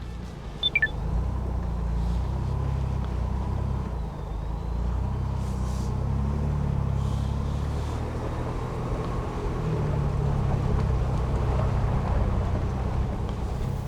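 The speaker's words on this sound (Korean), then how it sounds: "이 창문 열어놓으니까 배기음이 되게 이쁘네요" Ford Bronco exhaust note on an off-road trail with the windows open, a steady low engine rumble and drone that swells and eases slightly over the stretch, with a brief beep near the start.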